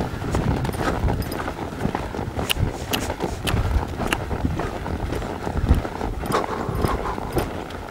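Rhythmic hoofbeats of a horse loping on the ground, steady three-beat thuds close by, with wind rumbling over the microphone.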